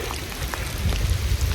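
Steady rain falls in cold weather on a mountainside, a continuous close wash of patter and drips with a low rumble underneath, no voices.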